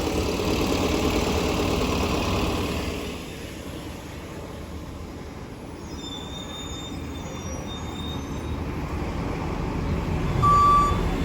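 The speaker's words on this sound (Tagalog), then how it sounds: "Here comes my bus." Route 208 East city bus arriving at a stop in the Des Plaines–Niles area of Illinois, a loud sustained engine and road rumble with brake squeals and a short high beep near the end.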